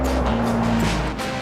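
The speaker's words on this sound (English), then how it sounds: "When he slams on the brakes," An airport friction testing vehicle brakes hard on a winter runway, its engine roaring close as the tires squeal and skid through a short, loud burst.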